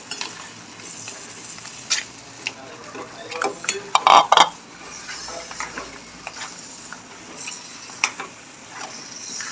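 Crabs are stirred in spice masala in a pan for a crab curry, with scraping and clattering of a spoon against the metal and a soft sizzle, in irregular bursts close by.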